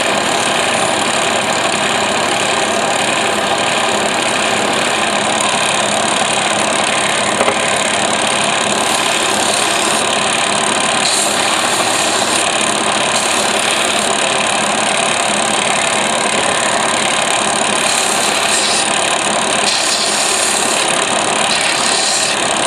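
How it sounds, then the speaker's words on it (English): Power grinder rounding the edges and corners of rustic wooden turkey call strikers, a steady continuous whir that stays loud and close without pause throughout. "We're going to give the edges a little bit of a grind,"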